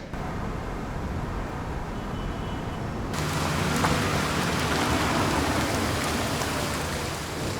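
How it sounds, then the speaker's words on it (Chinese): Steady rain hisses outdoors, starting moderate and growing noticeably heavier and louder after a few seconds, continuous with no voices. "下雨了，你们带伞了吗？"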